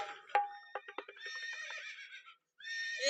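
A horse gives a clear, loud whinny with a rising then falling wavering call, and a few hoof clops and knocks come just before it. Another neigh begins at the end after a brief silence.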